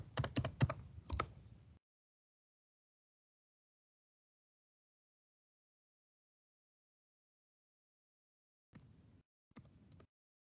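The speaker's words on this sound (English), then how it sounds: "I'm just going to start typing in that data" Quick bursts of keystrokes on a computer keyboard while data is entered into a spreadsheet, a rapid flurry at the start, then a long silence and two short clusters of taps near the end.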